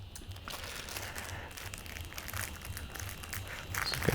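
Plastic bags holding sprues for an Aoshima 1/700 Chitose Japanese aircraft carrier model kit are cut open and handled, giving a steady close crinkling and rustling of thin plastic with a few sharper crackles toward the end.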